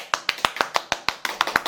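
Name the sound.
applause, clapping hands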